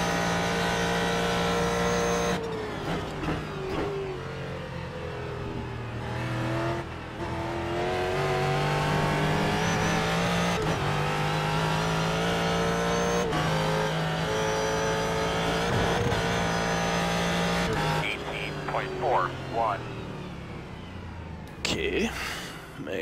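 Ford GT3 race car lapping Road Atlanta in the iRacing simulator, its engine droning loud and steady with repeated rev rises and falls through the gears, a gear change every few seconds and brief tire noise near the end.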